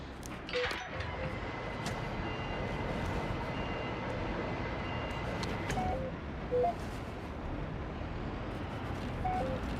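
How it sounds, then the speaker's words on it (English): Truck engine in the video game Docked, a steady droning hum that runs for the whole stretch with a few faint electronic blips on top, loud and continuous with no talking. "I love this truck's noise. It sounds like an arcade game."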